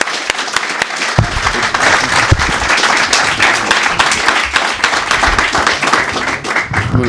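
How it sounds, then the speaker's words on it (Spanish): An audience applauds loudly and steadily for a speaker being welcomed at a lecture on the Reconquista, a dense sustained wash of many hands clapping close together, with a few isolated claps at the very start. "os pido un aplauso muy fuerte para él"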